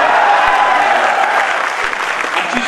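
An audience at an Indian poetry gathering, a mushaira and kavi sammelan, breaks into steady, dense applause that holds for a few seconds, loud and even throughout.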